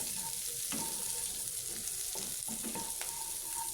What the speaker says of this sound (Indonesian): jadi lanjut aku oseng-oseng bawang merah, bawang putih sama cabai rawitnya pakai minyak yang sisa aku habis goreng telur